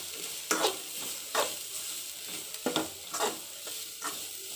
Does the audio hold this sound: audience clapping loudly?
no